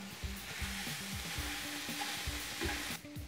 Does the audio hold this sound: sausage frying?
yes